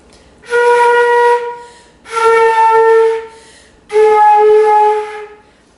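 A student plays three sustained flute notes, each separated by a gap where air runs out, the tones clear and breathy with similar pitch and even loudness.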